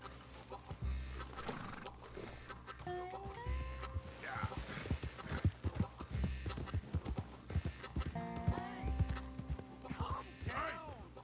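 Horse hooves clip-clop steadily through a Red Dead Redemption 2 game scene, under game character dialogue and a few whinnies.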